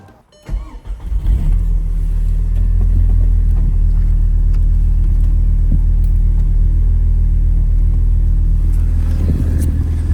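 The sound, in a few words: car engine running with single mass flywheel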